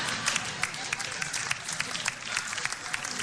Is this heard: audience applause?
yes